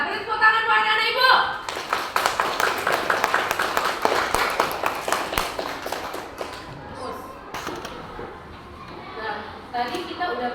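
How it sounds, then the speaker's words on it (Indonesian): Children in a classroom applaud together in a brisk burst of clapping that swells and then thins out over several seconds, with a teacher's voice talking before and around it. "beri tepuk tangan buat anak ibu"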